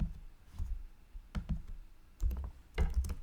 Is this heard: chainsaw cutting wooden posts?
no